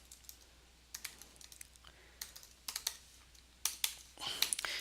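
Typing code on a computer keyboard, irregular close keystrokes in uneven clusters, growing busier and louder toward the end.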